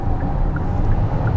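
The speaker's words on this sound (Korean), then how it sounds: "엔진 회전음이 평상시보다 많이 좀 경쾌해지는 걸 느끼실 수가 있습니다" A Hyundai Palisade 3.8 gasoline AWD in sport mode makes a steady, loud, low engine drone inside the cabin, heard alone for a brief moment.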